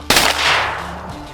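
A shotgun fires at ducks during a Louisiana opening-day duck hunt, one loud close blast followed by a long fading echo across the marsh.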